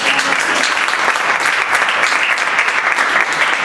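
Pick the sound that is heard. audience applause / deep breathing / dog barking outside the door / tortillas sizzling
audience applause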